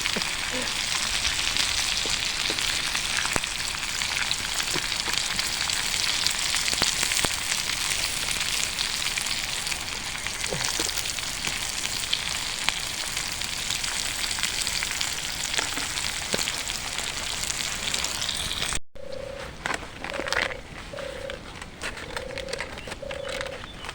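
Onions sizzle steadily and loudly in a hot pan on a wood-chip camp stove outdoors for a long stretch, a constant crackling hiss up close.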